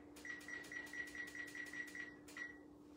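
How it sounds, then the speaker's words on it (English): Microwave oven being set for more cooking time, a rapid run of about nine short electronic keypad beeps followed by one more beep, close by over a steady hum, while bacon-wrapped water chestnut appetizers reheat. "So we're gonna put that on some more timer."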